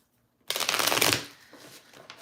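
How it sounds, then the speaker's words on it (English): Tarot cards being shuffled by hand at close range, a loud burst of riffling that then thins into softer, scattered card rustles, with no talking. "I need 3 more shuffles for Leo."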